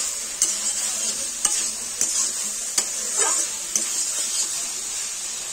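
Water goes into soybean and potato curry frying in a pot, leaving a steady, close sizzle broken by regular scraping stir strokes, with no talking.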